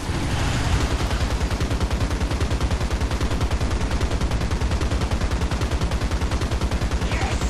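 A tank's coaxial machine gun in War Thunder fires a long, unbroken burst of rapid, evenly spaced rounds, loud and close, sustained from start to finish.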